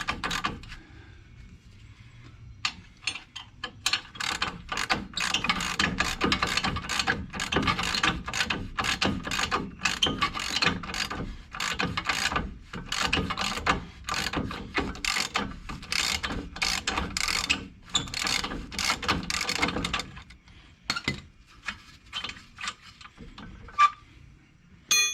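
A socket ratchet clicks rapidly in long bursts while loosening the bottom strut bolt on a 2004 Mustang GT during a Koni strut install, loud and close, with brief pauses between runs of clicking.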